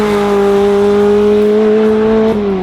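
A £500 race car with a 175-horsepower engine is held hard through a final corner, its engine droning loud and close at high, steady revs with a slight pitch shift near the end.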